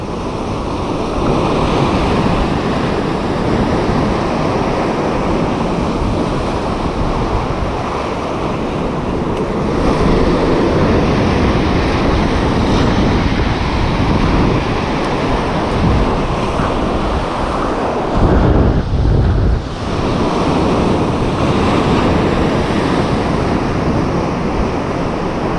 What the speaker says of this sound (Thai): ก็มีคลื่นอยู่นิดหน่อย ลมไม่ค่อยมีครับ